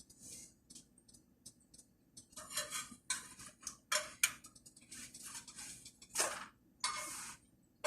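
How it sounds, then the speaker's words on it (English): A fork and butter knife clink and scrape against a pan while a homemade tortilla is flipped: scattered, irregular metallic ticks and taps, close and fairly quiet, with short silences between. "Fork and a butter knife. This is my flipping utensils."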